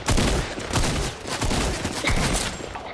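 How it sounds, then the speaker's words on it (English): Rapid bursts of gunfire from the video game Fortnite crackle loudly throughout, with shots stacking into a dense fusillade and no talk over them. "who's trying to shoot us?"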